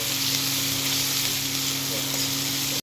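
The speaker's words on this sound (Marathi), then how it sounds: "शिमला मिरची टाकून घेऊया। आणि छान अशी परतून घेऊ।" Capsicum sautéed with turmeric in a hot pan gives a strong, even sizzle up close, continuous throughout with a faint hum beneath, ending in a sudden click.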